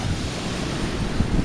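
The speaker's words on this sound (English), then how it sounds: "nice for swimming because the waves are breaking on the reef out there" Ocean waves breaking on a reef off a small Hawaiian beach, heard as a steady, full wash of surf with continuous low rumble and wind noise across the whole stretch, no talking.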